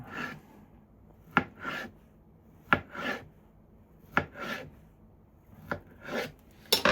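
Knife slicing through a peeled peach on a board, four sharp cuts at steady intervals, each followed by a brief scraping swish, close and clear with no talking.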